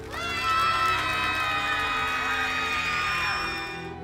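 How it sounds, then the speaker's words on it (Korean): A crowd, including children, cheers, shouts and whoops with some clapping at an outdoor concert, welcoming the Busan city symphony orchestra on stage; it is loud at first and then fades out toward the end. "그럼 다양한 악기를 준비한 우리 부산시립교향악단을 큰 박수로 함께"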